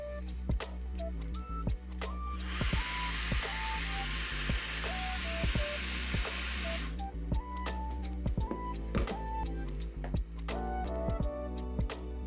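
A Mifen hair dryer blows in a loud, steady rush for about four and a half seconds, then cuts off, with sharp ticking clicks running throughout.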